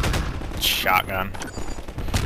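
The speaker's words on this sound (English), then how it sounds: "Shotgun." Shotgun fire in the first-person shooter Half-Life 2: loud, close blasts with sharp cracks and a metallic pump-like clatter between them, amid other game noise.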